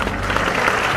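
Audience at a Solo seminar event clapping for Pak Andi, a steady dense wash of applause filling the whole short moment with no pauses.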